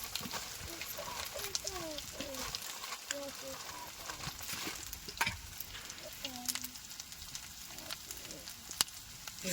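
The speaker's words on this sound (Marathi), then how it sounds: "मसाला इथं तळायचा आहे" Masala frying in a pan for a spicy dried bombil fish chutney makes a soft, continuous sizzle with faint stirring ticks, while quiet voices and other faint sounds drift in the background.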